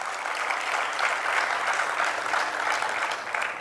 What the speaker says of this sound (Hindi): उस सौभाग्यशाली के लिए एक बार अच्छी ताली बजा दो।